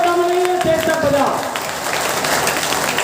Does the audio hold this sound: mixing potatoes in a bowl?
no